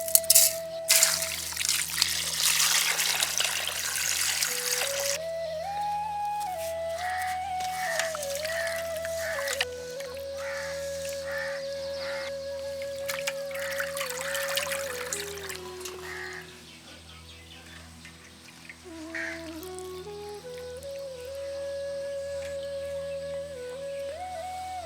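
Water poured over cut tuna pieces with rock salt while they are washed by hand, a steady splashing and trickling with soft handling noises throughout, no talk.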